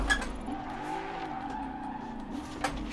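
Car tires skid and squeal in the racing game Forza Horizon 4. A steady engine drone runs beneath a continuous loud scrub that flares briefly at the start and again near the end, with no talking.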